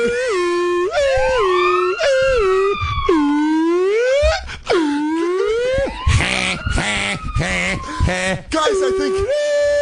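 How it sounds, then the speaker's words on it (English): Loud two-tone European police car sirens wail and swoop up and down in pitch, overlapping one another, close and continuous with a few abrupt breaks. "It sounds like European police cars."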